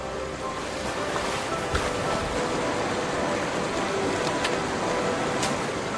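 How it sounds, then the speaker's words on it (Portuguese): Floodwater rushes through the Namibian desert after heavy inland rain, a dense, steady broadband roar like surf with occasional faint splashes, loud and continuous throughout. "A água abre seu caminho através do deserto."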